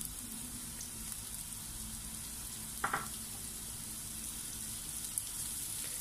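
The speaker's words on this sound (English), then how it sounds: "uunahin ko po ditong igigisa ang aking sibuyas" Onion sautéing in cooking oil in a pan, a faint, steady sizzle running throughout with a brief louder stir or scrape near the middle.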